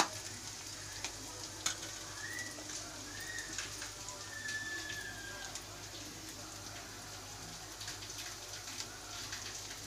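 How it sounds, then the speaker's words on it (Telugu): Vegetables for veg manchurian fry steadily in hot oil, a continuous soft sizzle with light crackles and occasional stirring clinks, moderately close and heard alone without talk. "ఇవి కొంచెం ఫ్రై అయిపోయినాయి కదండి."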